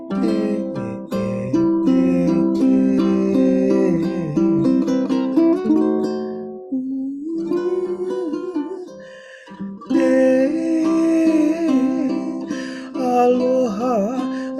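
A ukulele picks out a song melody in a lesson setting, a steady run of plucked notes with a brief pause midway before the tune resumes, played alone and up close.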